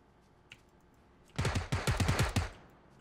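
Assault rifle fire in the video game PUBG, a quick burst of about eight rapid, evenly spaced shots in the second half, loud and close, after a quiet start with a faint click.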